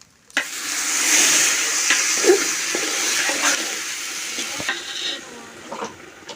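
Water pours into a hot pan of washed rice, green chilies and spices for chicken biryani. A sudden loud rushing hiss surges and then settles into a bubbling sizzle with a few clinks, and no voices.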